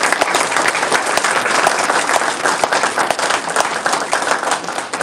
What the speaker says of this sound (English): So give our college faculty and staff a quick round of applause.